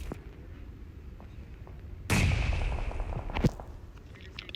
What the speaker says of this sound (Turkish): Bir tane bomba salladım.